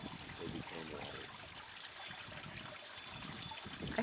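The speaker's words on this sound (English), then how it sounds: "I think that fountain is amazing." Water trickling steadily in a small indoor fountain made from two cow horns, a soft continuous dribble with faint splashy texture, quiet and close, with low murmurs of background room noise.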